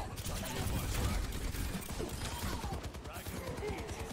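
Gunfire in a video game, a dense, continuous burst of rapid shots and crashing impacts at moderate loudness, with a voice talking over the shooting.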